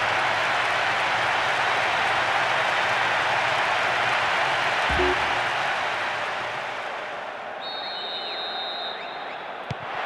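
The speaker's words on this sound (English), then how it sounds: "The capacity crowd are enjoying the goal celebration." A capacity stadium crowd roars steadily after a goal celebration in PES 6 on PS2, a loud continuous wash of cheering and applause that eases slightly toward the end, with a brief tone and whistle-like sounds.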